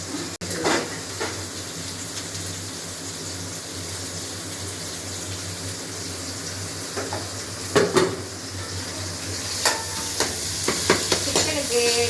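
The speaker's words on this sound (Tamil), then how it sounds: "வெங்காயம் போட்டாச்சு. வந்து தக்காளி பழம் போட்டாச்சு." Onion and tomato fry steadily in a pan as a home chapati-and-chicken meal is cooked, a soft continuous sizzle broken by a few louder stirring scrapes near the middle and toward the end, with no voices.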